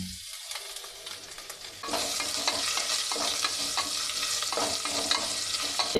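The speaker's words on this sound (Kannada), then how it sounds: "ಸ್ವಲ್ಪ ಕರಿಬೇವು ಸೊಪ್ಪು ಹಾಕ್ಕೊಳ್ತಾ ಇದ್ದೀನಿ ಒಗ್ಗರಣೆಗೆ." Curry leaves and freshly grated ginger sizzle in hot tempering oil for a pea pulao, a quieter crackle at first that jumps to a loud, steady frying hiss with stirring scrapes, close up and without talk.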